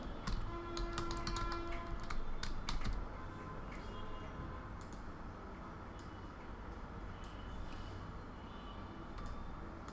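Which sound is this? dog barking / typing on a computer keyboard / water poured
typing on a computer keyboard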